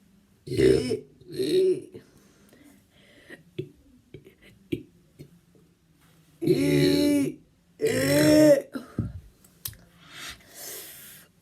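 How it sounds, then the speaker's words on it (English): A person burps repeatedly up close, several loud drawn-out belches with voiced, croaking tones, separated by quiet pauses and small clicks and breaths. "I'm just going to burp"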